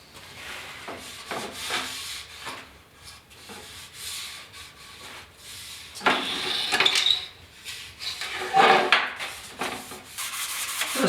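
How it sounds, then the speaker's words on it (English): Sandpaper of 320 grit scuffs a plastic grill from a 1972 Ford short box truck. Soft, uneven rubbing strokes come close up, with louder bursts in the middle and no talk. "scuff with some 320 grit now. And if you can't get at it with a little bit of sandpaper,"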